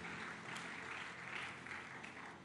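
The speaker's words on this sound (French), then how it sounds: "Acclamons pour la parole du Seigneur" A church congregation applauds at a Pentecostal deliverance service, with steady, dense clapping that holds for the whole stretch and rises in waves, close and fairly loud.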